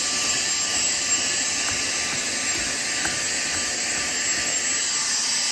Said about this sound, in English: we're just gonna essentially vacuum it up